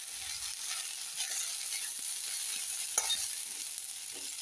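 Roasted peanuts tossed into half-cooked onions frying in a pan for groundnut chutney, a soft steady sizzle with light scraping stirs and a couple of small clinks, no one talking.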